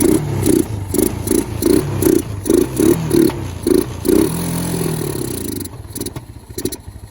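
A Kawasaki Bayou ATV engine, just taken off choke, chugs in loud rhythmic pulses that settle into a steadier running drone before fading toward the end.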